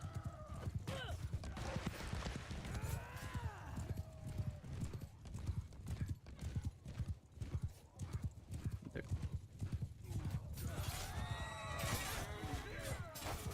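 Cavalry hooves in a large video game battle with about two hundred players, a steady loud clip-clop of many horses with occasional whinnies, continuous throughout with a voice talking faintly underneath.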